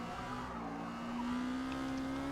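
A car drifts in Forza Motorsport, a B-class Exocet sliding at the Nürburgring: a steady, loud engine drone with a sustained tire squeal that rises slightly in pitch, continuous and close, without speech.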